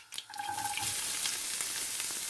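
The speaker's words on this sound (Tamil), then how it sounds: "பாருங்க இப்போ வெங்காயம் வதங்கிட்டது." Sliced onion frying with cinnamon, cloves, bay leaf, green chilies and curry leaves in oil in a pan for a spicy banana pepper curry, a steady close hiss and crackle throughout after a brief stir at the start.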